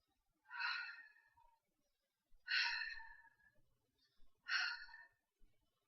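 A person imitates breathing against their fingers: three breathy, hissing bursts spaced about two seconds apart, close and fairly quiet, with brief softer puffs trailing between them.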